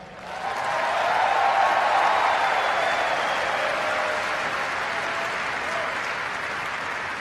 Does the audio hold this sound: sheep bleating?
no